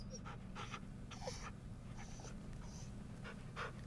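A dog pants in quick, rhythmic breaths close by, a steady series of short huffs over a low background rumble, with no talking.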